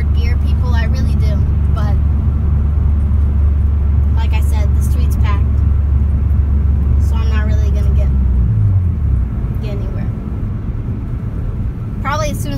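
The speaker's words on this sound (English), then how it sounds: "As soon as I go into fourth gear, I'd have to just stick it in neutral again and slow down, just like right now." A Nissan 350Z engine drones steadily at low pitch while the car cruises on a freeway, with road rumble throughout. Someone talks over it and the engine note drops partway through as he slows down.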